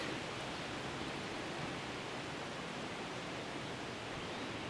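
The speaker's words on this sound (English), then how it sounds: "when the wind picks up like this" Wind gusting steadily through woodland beside a creek, a constant broad rushing roar that fills the scene and holds level without pause, with no voices.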